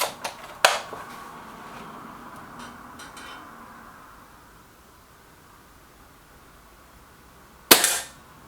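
Two sharp air rifle reports from Reximex rifles crack nearby, one early and one near the end, with a faint hiss and quiet rustling between them.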